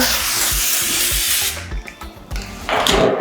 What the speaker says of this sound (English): we're just going to spray it over the top like so